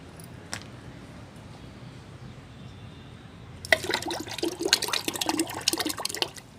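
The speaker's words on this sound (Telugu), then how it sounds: "నేను ఒక త్రీ లీటర్స్ ఆఫ్ వాటర్ని తీసుకుంటున్నాను తీసుకొని ఇప్పుడు యాడ్ చేస్తాను" Three liters of water poured into fermented mango fruit juice for a plant fertilizer, a brisk splashing gush that starts partway through after near silence and runs steadily to the end.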